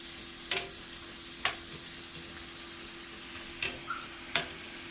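Jerk shrimp fry in a pan with a soft, steady sizzle, and a few crisp taps from a utensil land at uneven intervals.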